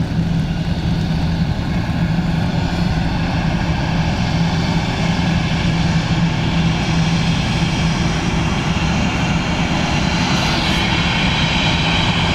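A propeller airplane on approach to runway 28 left at Dublin Airport, its engine drone steady, loud and continuous throughout, with no voices.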